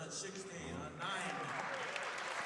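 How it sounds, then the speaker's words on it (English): An audience at a pool match breaks into applause partway through, a soft, steady patter of clapping that continues to the end, heard behind commentators talking. "They're clapping."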